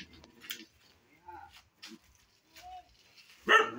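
A small dog lets out short barks and whines, with a louder yelp near the end, mixed with scattered speech-like sounds at close range.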